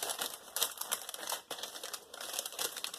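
Parchment paper and wax paper being folded around stored artwork and taped, giving close, fairly quiet crinkling and rustling in continuous uneven bursts without any talk.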